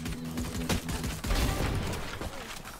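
Gunfire in the Valorant video game, a burst of rapid shots followed by a heavier crack and a dense, noisy stretch of game sound, loud and close, with no talk over it.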